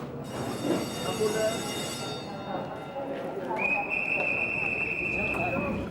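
The Reunification Express train in Vietnam rumbles out of a station, wheels clattering, with a long steady high whistle or squeal joining partway through, and a voice talking over the train noise.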